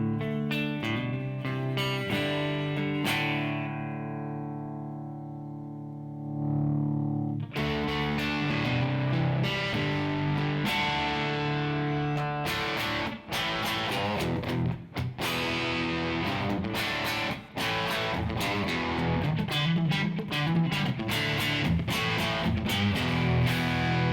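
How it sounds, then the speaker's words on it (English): Distorted electric guitar through a Line 6 POD500X amp modeler at high gain, with a harsh, buzzy digital fizz on top, sustained chords then steady rhythmic strumming, loud and close. "there is some digital artifact, like some kind of fizz"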